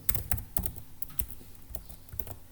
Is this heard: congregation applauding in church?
no